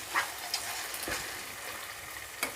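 Ginger garlic paste and mushroom biryani masala are stirred in a pan, giving a soft, steady sizzle with a few light scrapes and taps of the spoon, quiet and close.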